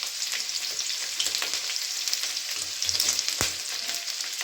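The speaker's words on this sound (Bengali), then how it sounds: "আর এখানে আদা আর কাঁচা লঙ্কা কুচানো দিয়ে দিলাম।" Chopped ginger and green chili sizzle steadily in hot oil alongside minced garlic, a continuous close crackle with brief sharper pops and occasional stirring clatter, no voices.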